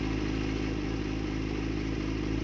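A 2004 Kawasaki ZX-6R sport bike engine runs steadily with a buzzy, even mechanical drone, close and loud, with no speech over it.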